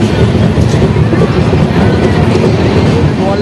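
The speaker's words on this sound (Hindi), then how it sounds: "ट्रेन हमारी अराइवल हो रही है सुल्तानगंज रेलवे स्टेशन पर।" An LHB-coach Garib Rath Express train rolls into Sultanganj railway station in Bhagalpur, Bihar, heard from inside a third-class AC coach: a loud, continuous rumble with rhythmic wheel clatter on the rails.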